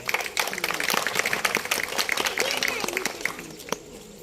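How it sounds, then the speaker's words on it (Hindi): Audience applause for a stage theatre group, steady dense clapping throughout with crowd noise, close and fairly loud, no clear talk over it. "और स्टेज ऐप, संस्कार भारती और अभिनय रंगमंच के लिए एक बार जोरदार तालियां प्लीज"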